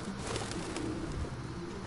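Pigeons or doves cooing in the Detroit Become Human video game, soft repeated low coos over a steady ambient hiss, fairly faint and with no talking.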